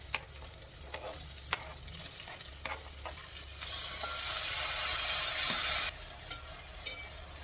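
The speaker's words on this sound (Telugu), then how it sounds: "తర్వాత ఉల్లిపాయలు, పచ్చిమిరపకాయలు" Onions and green chillies dropped into hot tempering oil with dried red chillies for a tomato, potato and capsicum curry, a burst of loud close sizzling lasting a couple of seconds between scattered spoon taps and stirring clicks.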